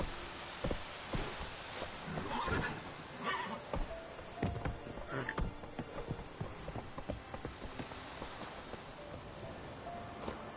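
Roach, the horse in the video game Witcher 3, snorts and whinnies among repeated hoof clip-clops on soft ground, with a light rain-like patter beneath; no talking.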